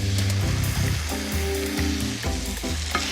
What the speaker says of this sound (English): the basting sauce that I reserved earlier is gonna go in this pan